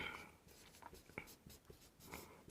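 A pen scratching out a maths solution by hand on paper, quiet close strokes in short irregular bursts, with no voice over it.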